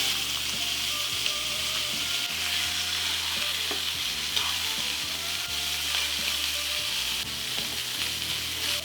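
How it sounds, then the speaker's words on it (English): A leg of lamb sizzles and fries steadily in a hot pan as it is turned, a dense continuous crackle with small stirring clatters, close and fairly loud, with no talking. "a good time to look at our leg of lamb and give it a turn"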